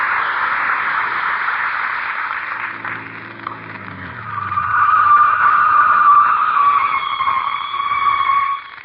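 A radio-show sound effect of a car with failing brakes skidding to a stop, tires squealing loudly and sustained for several seconds, rising in pitch before cutting off.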